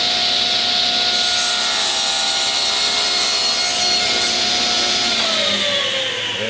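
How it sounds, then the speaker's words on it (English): Miter saw making a 60 degree cut through wood for a homemade hockey stick: a loud, steady whirring rasp of the blade through the piece, then the motor winding down at the end. "it's about a 60 degree cut with my little miter slide here. And I'm just going to run it through."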